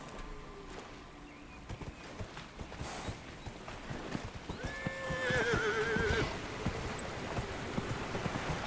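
A horse in the Dragon Age: Inquisition video game lets out a clear, loud whinny midway, surrounded by soft clip-clopping hooves and faint background game ambience.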